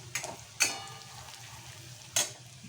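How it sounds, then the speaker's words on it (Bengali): Grated ginger, garlic and chili fry in a pan for dal fry, giving a quiet steady sizzle broken by a few sharp clinks of a spoon stirring against the pan. "একটু ভেজে নিই"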